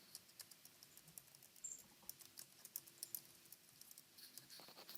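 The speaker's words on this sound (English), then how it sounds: "I'm still typing." Fingers type on a computer keyboard in quick, irregular bursts of light clicks, fairly faint and close, with no one talking.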